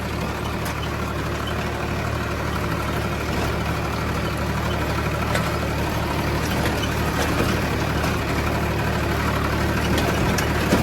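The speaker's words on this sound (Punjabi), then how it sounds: "ਹੁਣ ਗਰਦ ਜਾਂਦੇ ਹੁਣ ਹੌਲੀ ਕਰ ਲਿਆ ਟਰੈਕਟਰ" A heavy diesel tractor engine rumbles steadily and loudly throughout while ploughing a potato field, a low continuous drone with a faint rhythmic knock and no voices.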